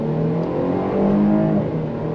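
A 2024 Jeep Grand Cherokee L accelerates under throttle through its TorqueFlite 8-speed automatic, a steady, moderately loud engine drone heard from inside the cabin with a rising tonal hum and no talking.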